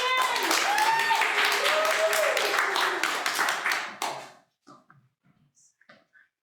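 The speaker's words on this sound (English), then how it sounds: "So one more round of applause as we clear the stage and begin." Applause and cheering from a theater audience at a one-woman comedy show, loud and full for about four seconds before cutting off, with a voice carrying over it and a few faint sounds after.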